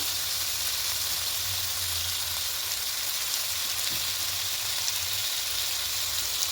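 Potatoes and cauliflower sizzling in hot oil in a pan, a steady, even frying hiss that continues alone with no talking.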